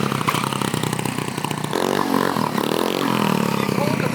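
A scooter engine revving during wheelie practice, a loud, steady buzzing drone that climbs in pitch partway through, with people talking over it.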